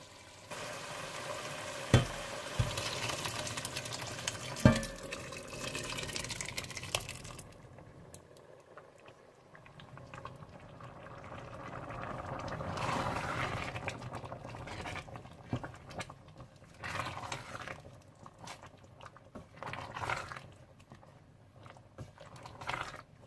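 Chickpea and lentil mixture being stirred into a boiling, sizzling masala for chikar cholay, with a few sharp spoon knocks early on and then steady bubbling, frying and stirring noise running throughout.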